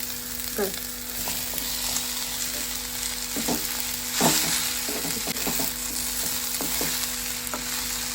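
Grated coconut fries with onions in a pan for a chickpea masala curry, making a continuous moderate sizzle with occasional soft stirring scrapes and clinks, no talk.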